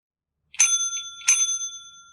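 A Twitch channel point audio alert plays back through a streaming mix channel: two bright, bell-like chime strikes with ringing sustained overtones, loud and clean with no voices.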